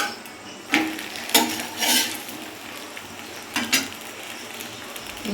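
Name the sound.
flipping flatbread frying in a pan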